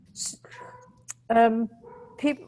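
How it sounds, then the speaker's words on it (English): A dog barks a few times in the background while a person speaks, the barks short and moderately loud with pauses between them. "that's my dog, sorry."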